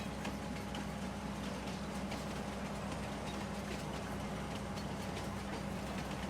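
A train rolls steadily in Farming Simulator 19, a continuous low rumble with faint rhythmic clatter, heard alone without speech.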